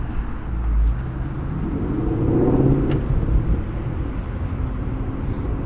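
Ford Shelby GT350 Mustang out on a short test drive, a low engine rumble that swells under acceleration and then holds as a steady drone from inside the car.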